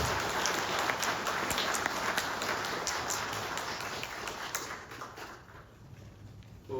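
A church congregation applauds two nuns during Sunday Mass, with a wash of clapping echoing through the sanctuary that gradually fades and thins over several seconds.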